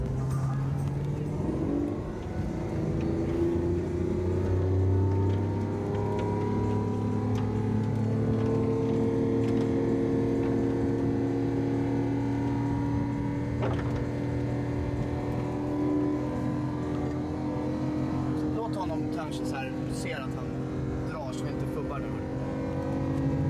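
A Ford GT with a manual gearbox racing a sequential-gearbox Lamborghini Aventador, engine tones rising and sustaining through the run, heard at a moderate distance under steady talk.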